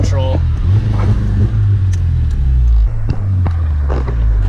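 A modified 2008 Honda Civic Si, an eighth-generation car making over 220 horsepower, launching hard from a standstill, with a loud, deep engine rumble and rising revs heard from inside the car, plus brief voice-like sounds early on.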